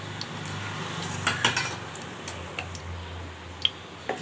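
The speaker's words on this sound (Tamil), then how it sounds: "கடுகு பொரிஞ்சிச்சு." Mustard seeds with fenugreek in four spoons of hot oil, spluttering and popping in sparse, sharp little cracks over a faint background hiss, close by and fairly quiet, with no talk.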